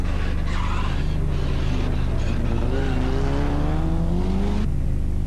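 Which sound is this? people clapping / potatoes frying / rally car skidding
rally car skidding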